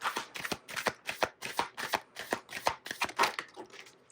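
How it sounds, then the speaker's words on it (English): Tarot cards are shuffled close up in a quick run of about a dozen crisp riffles and slaps, with short gaps between them. "can we get Erika's feelings towards JD, please? 3 cards"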